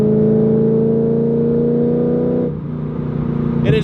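A C5 Corvette Z06 engine holds a steady, droning rev with a strong harmonic hum, then dips slightly as the load changes, close and loud with no talk.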